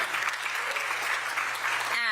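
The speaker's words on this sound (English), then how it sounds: "Everyone give a round of applause for the 2024 Teacher of the Year." At the 2024 OSSE Educator Awards ceremony in DC, the audience gives the 2024 Teacher of the Year a short, dense burst of clapping, and a voice begins speaking just as it ends.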